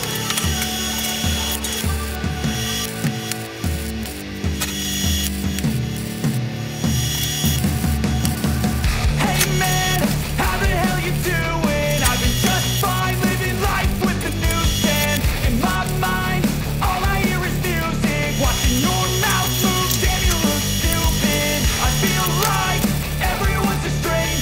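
Steel is MAG-welded along a continuous seam on a stove built from a wheel rim, giving a steady, loud, dense crackle and sputter that runs without a break.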